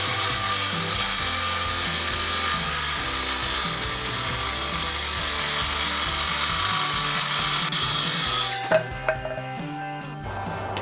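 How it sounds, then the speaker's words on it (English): A circular saw cuts along a marked line on a wooden board for a farmhouse table, a loud steady whine that lasts about eight seconds, then stops and gives way to a few light knocks. "I'm just gonna take my circular saw and run it along this green line and cut it out"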